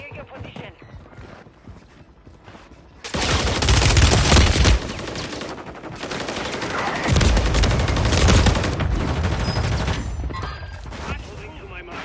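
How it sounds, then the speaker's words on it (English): Mortar strike explosions in a video game arrive as loud broadband blasts from about three seconds on, rumbling over scattered gunfire-like crackle and a brief game voice alert. "Hostile mortar strike near your position."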